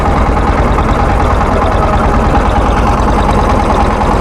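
A boat's engine runs as the boat sets off, a loud, steady low rumble with constant vibration throughout and no talk.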